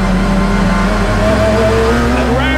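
Race cars, including GTE-class sports cars, pull away together to start the formation lap at Spa-Francorchamps. A dense, loud drone of several engines rises in pitch as they accelerate.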